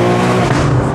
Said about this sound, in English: How good does the S58 sound, man?